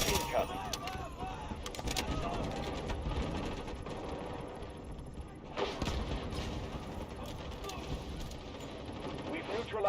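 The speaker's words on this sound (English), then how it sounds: "Artillery barrage incoming." Continuous battlefield din from the video game Jump Ship, with dense gunfire, fusillades and artillery barrage booming throughout at steady loudness, swelling in bursts near the middle and end.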